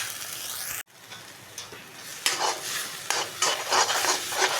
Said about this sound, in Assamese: পেষ্টটো ভালকৈ ভাজি ল'ম, পেষ্টখিনি ভালকৈ ভাজি ল'ম।